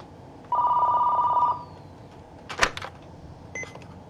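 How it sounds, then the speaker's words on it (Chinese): A telephone rings indoors in a home during a family comedy scene: one clear, loud electronic ring lasting about a second, then a sharp knock or clatter and a softer short beep afterward. "我电话响了，我去接电话。"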